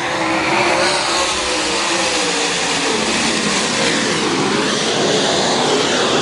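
Late model race cars restarting on a speedway, a loud, dense and continuous roar of several engines blending together, sustained without a break.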